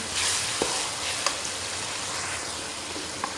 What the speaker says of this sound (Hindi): दो मिनट के लिए टमाटर को भूनते हैं ताकि टमाटर अच्छी तरह से गल जाए